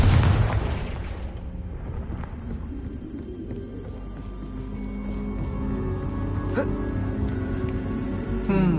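A Confringo blast spell goes off in a wizard game, one loud boom at the start decaying into rumble and crackling debris, with a softer burst near the end.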